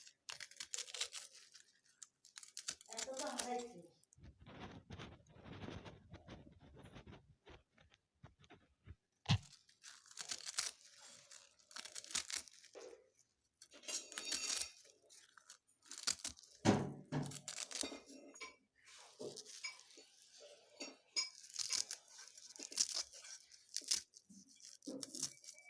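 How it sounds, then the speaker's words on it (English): Radish greens are chopped with a knife, giving quiet, close, irregular crisp crunches and tearing sounds in scattered bursts with brief pauses between, no talking. "In this way you cut your greens."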